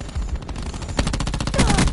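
A short, fast burst of automatic gunfire from a gun in Black Ops 4, loud and rapid, with the rate of fire picking up in the second half.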